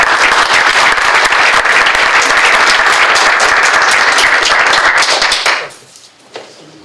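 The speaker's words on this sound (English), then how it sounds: "Let's give another round of applause to Tony." Sustained applause from a crowd at a school board meeting, loud and steady for about five seconds before breaking off into a quieter room with a few scattered claps.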